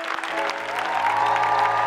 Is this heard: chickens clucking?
no